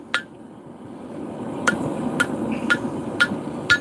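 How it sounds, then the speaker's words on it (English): A hammer strikes a knife blade while forging a bevel, giving about six sharp metallic clinks, the first one alone and the rest coming in a steady rhythm. "So whenever you forge a bevel in,"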